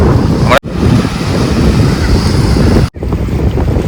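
Loud, continuous rush of sea waves and gusting wind buffeting the microphone at the Kerala coast, with two brief dropouts in the roar.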